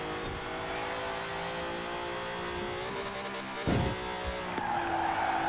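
Rally car in the racing game Forza Horizon 4 driving hard with a constant engine drone, rising revs and tire squeals from skidding, plus a sharp thump partway through, loud and close with no talk.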